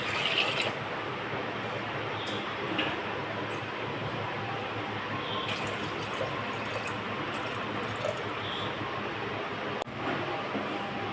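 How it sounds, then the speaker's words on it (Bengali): Water pouring steadily into a cooking pot of mutton shanks with oil, a continuous close rushing splash that holds even for the whole stretch, alone without talk. "তেল দিয়ে দিলাম জল দিয়ে দিলাম"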